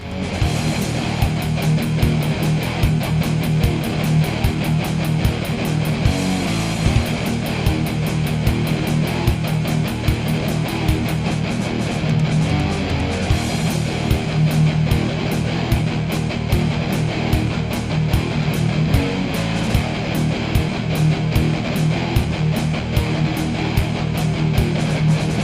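Distorted electric guitar plays a heavy metal riff, a dense, steady palm-muted chug running loud and unbroken for the whole stretch, with no talking over it.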